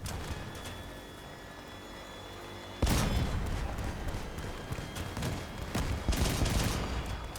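Thyrsus weapon firing in the Crossout vehicle combat game: a sudden heavy blast cuts over a steady engine drone, followed by further booming shots a few seconds apart.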